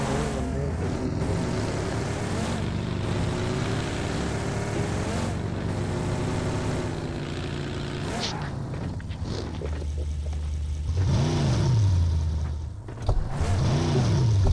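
Vehicle engine in a battle royale mobile shooter, a steady droning motor with rising and falling revs and a brief surge near the end, loud and continuous under occasional game noise.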